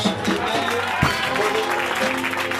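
Church congregation cheering and applauding after a shouted Amen, a dense continuous wash of clapping and voices filling the room at steady loudness.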